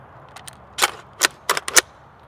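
Several sharp gunshots from an 11.5-inch AR pistol fitted with an ACOG sight: two light early cracks, then four louder reports in an uneven rhythm, each short and close with a quick decay.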